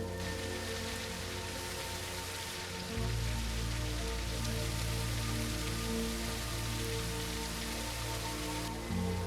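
Dense, steady rain pours down, a broad continuous hiss with a low rumbling undertone that grows heavier partway through.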